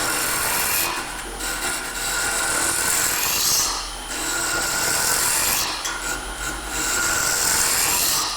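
A woodturning gouge hollows out the centre core of a turned wooden box on a lathe with a pre-drilled hole, giving a continuous close rasping scrape that swells and eases in several passes.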